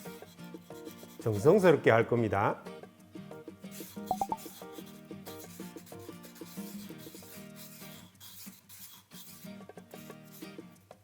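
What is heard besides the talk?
sanding wood with sandpaper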